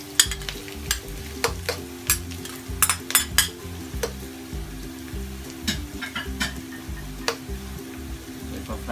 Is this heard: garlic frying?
yes